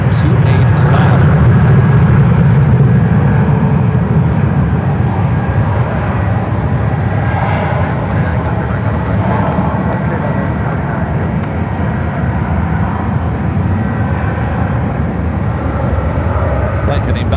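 A Boeing 787-9 Dreamliner bound for London Heathrow taking off from SFO runway 28 left, a sustained distant engine roar under ongoing talk, holding steady throughout.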